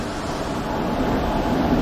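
The Palakkad Express, hauled by a WAP4 electric locomotive, rumbles along as a steady, loud wash of rolling rail noise with no distinct clacks.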